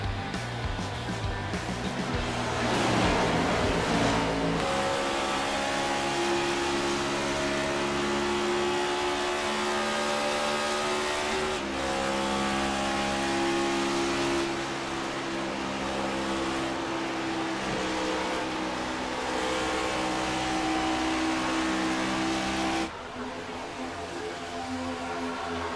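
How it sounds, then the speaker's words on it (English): Stock-car engines drone continuously as the pack races under green at Las Vegas in a racing simulation, a dense, loud sustained roar with shifting pitch as the field runs together. "And here we go, back green flag racing at Las Vegas."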